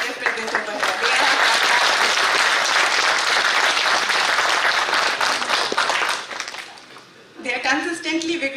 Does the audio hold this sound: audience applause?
yes